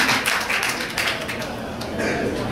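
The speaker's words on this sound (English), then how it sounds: "Round of applause, please." Audience applause at a tech innovation presentation evening, a steady dense patter of clapping filling the room throughout, fairly loud and continuous with slight swells.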